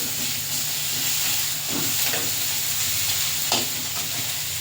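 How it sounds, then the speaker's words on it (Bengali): Spice paste with ginger paste and chilli powder stir-fries in a pan in a village kitchen, a steady close sizzle with a few soft scraping stirs. "দিয়ে মশলাটা ভালো করে কষে নিই।"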